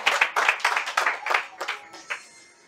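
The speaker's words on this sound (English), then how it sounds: "Give yourselves an applause for your new reality." An audience claps in bursts of applause that rise and fall, thinning out toward the end, with no one speaking over it.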